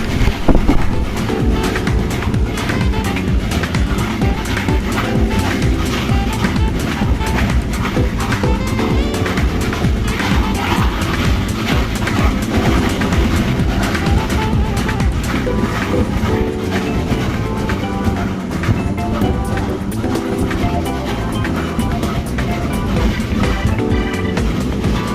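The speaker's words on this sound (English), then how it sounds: "I spied another train coming in the opposite direction, decided to film it" A passenger train on a trip through the Tatra region rushes past a moving train in the opposite direction, a loud, dense, continuous roar and rattle with wind buffeting for the whole stretch.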